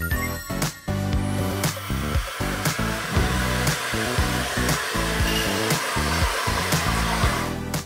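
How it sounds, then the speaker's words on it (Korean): The air blower function of a Samsung Bespoke AI Jet 400W cordless vacuum blows strongly, making a loud, steady rushing whoosh of air that holds throughout over background music. "강력한 바람을 내뿜어주는 에어블로어입니다"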